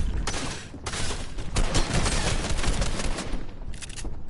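SMG fire in the online battle game Fortnite comes as rapid repeated bursts of gunshots, fairly faint and continuous over a few seconds, with no talk.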